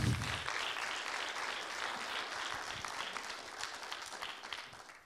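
An audience at an energy and climate business club meeting breaks into sustained, dense applause that holds steady for several seconds before tapering off at the end.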